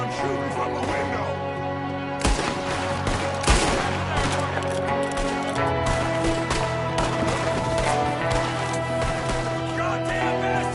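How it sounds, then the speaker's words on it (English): Enemy gunfire in Red Dead Redemption 2, with repeated rifle and pistol shots cracking over a dense, steady din of game music and ambience, including a few loud bursts. "There's another one shooting from the window."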